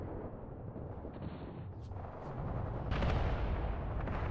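Continuous heavy gunfire and artillery rumble from the Mius Front battlefield, a dense low roar with scattered sharper reports, growing louder and more intense in the second half.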